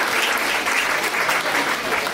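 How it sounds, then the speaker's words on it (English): An audience applauds together after a participation experiment, a loud, dense wash of clapping that stays full and steady throughout, with a hint of crowd noise under it. "Give yourselves a round of applause for that experiment."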